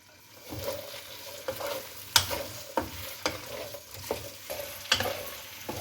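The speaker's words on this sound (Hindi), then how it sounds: "चार से 5 मिनट तक मैंने भिंडी को फ्राई कर लिया" Half a kilo of cut okra (bhindi) fries in hot oil in a kadhai, a soft steady sizzle broken by repeated scraping stirs of a spoon at an irregular rhythm.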